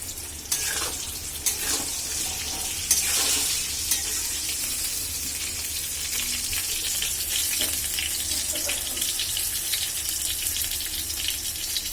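Eggplant pieces frying in oil in a pan give a steady, close sizzle with a few sharp pops and scraping stirs near the start; no one speaks.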